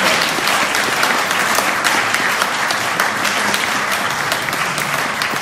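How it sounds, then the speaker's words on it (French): A church congregation applauds in a steady, dense wash of many hands clapping, loud and sustained from start to finish with no voices rising above it. "et on l'applaudit encore"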